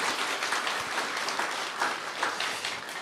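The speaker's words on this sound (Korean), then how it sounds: "뜨거운 박수로 환영합시다." A church congregation claps to welcome newcomers during a sermon service, a steady, moderately distant wash of applause running throughout without a break.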